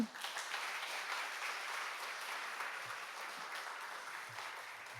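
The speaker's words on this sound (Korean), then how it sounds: "우리 목사님 나오실 때 하나님께 영광의 박수 또 환영의 박수 올려드립니다" A church congregation gives a round of applause to welcome the pastor. The clapping is soft and distant but steady throughout, with no voices over it.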